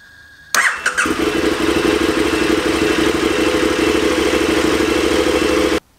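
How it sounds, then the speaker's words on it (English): A motorcycle engine cranks on the electric starter button with a sharp clattering catch, then settles into a loud, steady idle that runs for several seconds before cutting off abruptly. "We're gonna turn the motorcycle on, and then we're gonna hit the starter button to see what happens."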